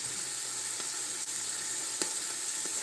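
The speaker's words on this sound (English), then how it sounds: "while we're sauteing the daikon radish and the onion" Daikon radish and onion sauteing in a pan, a steady close sizzle with a couple of faint clicks, no talking.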